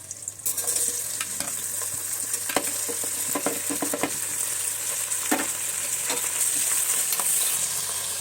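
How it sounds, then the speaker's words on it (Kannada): Green chilli, curry leaves, onion, tomato and coriander fry for chicken biryani, giving a continuous close sizzle with scattered crackles and stirring clatter throughout. "ಹಸಿಮೆಣಸು, ಕರಿಬೇವು, ಈರುಳ್ಳಿ, ಟೊಮೊಟೊ, ಕೊತ್ತಂಬರಿ ಇಷ್ಟನ್ನು ಫ್ರೈ ಮಾಡ್ಕೊಂಡು"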